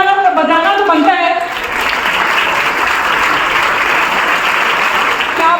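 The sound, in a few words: audience applauding, standing ovation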